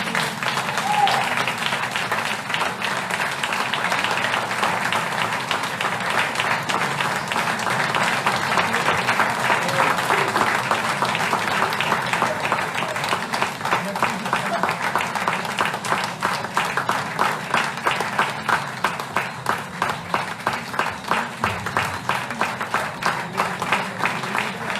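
Sustained applause from an audience at a museum inauguration, dense steady clapping that continues without pause for the full length, loud and close.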